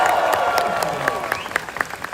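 Applause from an audience at an Indonesian Independence Day (HUT RI 78) stand-up comedy show, a dense wash of many hands clapping with a few sharper claps standing out, steady and fairly loud throughout.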